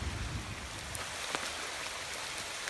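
Steady rain falling outdoors beside Sugar Creek, Indiana, near the Devil's Backbone, a soft continuous patter with occasional sharper drips, fairly faint and with no talking.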